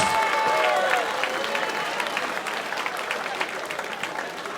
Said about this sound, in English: a big round of applause for both of these men after 5 superb action-packed rounds